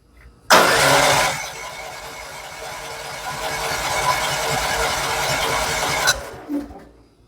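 Champion 9000 portable generator engine starts abruptly with a loud burst, then settles into a steady close mid-pitched running hum for about five seconds before cutting out, followed by a brief click.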